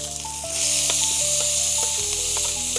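Tomato hits curry leaves frying in oil for a Mangalore-style egg kothu parotta, setting off a loud, close, continuous sizzle under steady background music.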